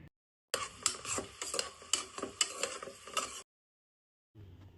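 Onions frying in oil and ghee in a pressure cooker, with a spoon stirring and scraping against the metal for about three seconds between quiet gaps, close and fairly soft.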